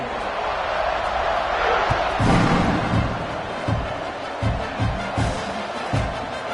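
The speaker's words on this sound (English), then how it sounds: "They're set to kick it off, and this crowd now ready to get behind them." A football stadium crowd roars steadily at kickoff just after a blocked extra point, a dense broadband wash with several dull thuds and swells rising through it.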